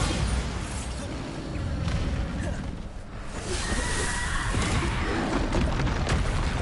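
Bombarda blasting spell explosion in the video game Hogwarts Legacy: loud, rumbling booms with whooshing bursts that fill the whole stretch, dipping briefly midway before surging again.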